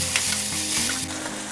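Guntur chilli chicken fries over medium heat in a pan, a loud, steady sizzle with a faint stirring scrape, close and continuous.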